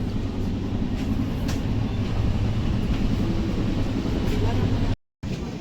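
Inside a coach of the Kongu SF Express crawling through Irugur railway station at early morning, a low, steady rumble of wheels and carriage runs throughout, with faint clacks and a brief dropout near the end.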